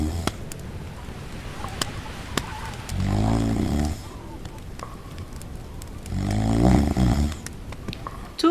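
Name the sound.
imitated bear snoring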